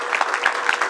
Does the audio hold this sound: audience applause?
yes